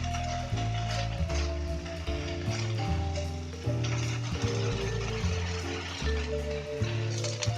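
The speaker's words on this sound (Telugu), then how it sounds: "ఇక్కడ నేను వీటిని రెండు వైపులా కాస్త వేపుకుందాం" Pieces of paneer sizzle and fry in hot oil in a kadai while being turned to brown on both sides. The crackle is steady and close, with music playing underneath.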